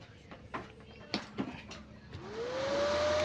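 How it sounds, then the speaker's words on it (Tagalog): The cooling blower of a Makita 250A welding machine spins up after clicks and handling noises, then settles into a steady rising whir that runs continuously. "Umikot na yung blower ng tuloy-tuloy."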